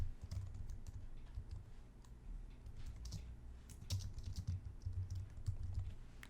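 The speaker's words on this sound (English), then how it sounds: "So I'm going to type that in real quick." Rapid clicking of computer keyboard keys, faint and close, in quick irregular bursts over a low background hum, with no voice.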